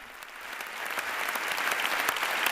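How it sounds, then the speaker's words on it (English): Applause for Pope Leo XIV at the Pontifical Lateran University's academic year opening, a dense crowd clapping that swells steadily louder over a few seconds. "Big round of applause for the Pope."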